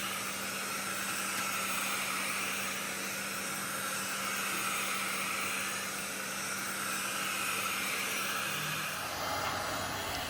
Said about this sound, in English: use a heat gun or hair dryer, heat the distributor